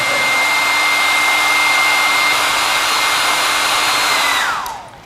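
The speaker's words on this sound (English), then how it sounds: "everyone knows what a hairdryer is" A hairdryer blows during a live product demonstration, a loud, steady whooshing roar with a constant motor whine that holds for several seconds and then winds down as it is switched off.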